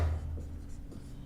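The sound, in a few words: writing on a board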